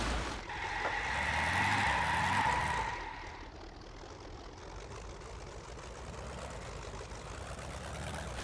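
A car skids on a slippery road in the My Winter Car video game, tyres squealing for a few seconds over the engine, which then keeps rumbling steadily.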